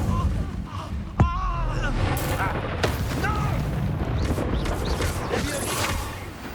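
Incendiary fire spell exploding in Hogwarts Legacy, a sharp crack followed by booming, crackling blasts amid combat sounds, with voices speaking over it.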